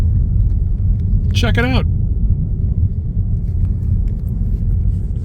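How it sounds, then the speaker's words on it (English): A car driving across salt flats, a loud steady low rumble of engine and tyres filling the cabin, with a brief spoken remark partway through. "can you drive on the salt flats? Well, yeah, you can."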